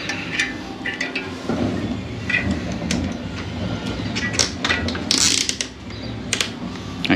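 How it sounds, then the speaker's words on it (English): Ratcheting clamps on a Hollywood Racks Destination 2 platform bike rack are cinched down onto bike tires, giving bursts of clicking and mechanical rattling with short pauses, close up and fairly quiet outdoors. "Next and final step really is to clamp the tires in place"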